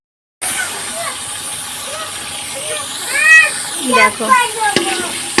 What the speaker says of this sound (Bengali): আলু দিয়ে দিয়েছি, আলুটা 2-3 বার নেড়ে নিই